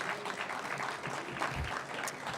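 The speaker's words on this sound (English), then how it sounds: "so give her a round of applause." Audience applause at a county small business awards event: a steady, dense patter of many hands clapping at moderate volume throughout, with no clear gaps.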